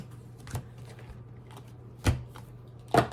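Three sharp, separate riffles or snaps of tarot-style reading cards being shuffled at uneven intervals, close by, over a low steady hum.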